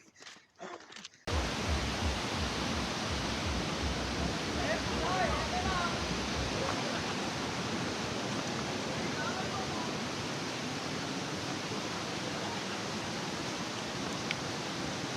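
Polluru waterfall at Maredumilli roars as a dense, steady wash of falling water that stays constant after a brief quieter opening, with faint voices underneath.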